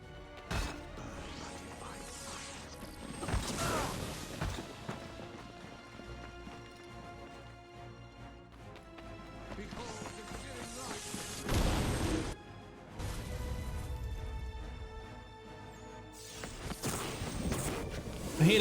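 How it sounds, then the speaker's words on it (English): Glass smashing in a video game, with several loud crashing bursts spread over a long stretch of busy game noise, including clattering hoof-like thuds. "I have to break the glass."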